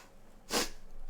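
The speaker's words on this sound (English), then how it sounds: "I have to blow my nose." A person blowing their nose indoors, a single short, loud blast of air lasting about half a second, set against a quiet room with faint breathing before and after.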